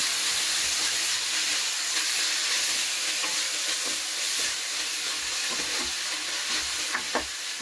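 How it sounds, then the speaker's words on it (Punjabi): Chopped tomatoes frying in spice masala in a pan for a dry taro curry, with a steady loud sizzle and occasional scrape-and-stir clicks throughout, no talking. "ਚੌਪ ਕੀਤੇ ਟਮਾਟਰ ਨੂੰ ਵੀ ਆਪਾਂ ਚੰਗੀ ਤਰ੍ਹਾਂ ਭੁੰਨ ਲਵਾਂਗੇ ਮਸਾਲੇ ਦੇ ਵਿੱਚ"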